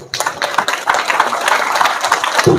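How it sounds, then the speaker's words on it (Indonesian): A crowd at an Indonesian religious gathering claps together, a dense, steady patter of many hands that runs for a couple of seconds at a fairly loud level. "Tepuk tangan dulu."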